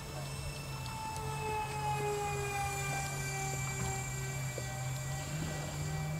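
A Dynam RC model turbojet engine runs under half throttle, giving a continuous steady whine with a layered high-pitched tone and a constant low drone, loud and unbroken throughout.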